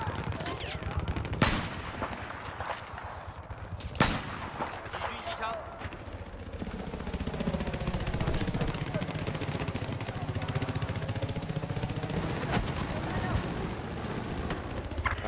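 Scattered gunshots crack out in Battlefield 4, with a few louder bursts standing out over a steady background of distant battle noise and occasional voices.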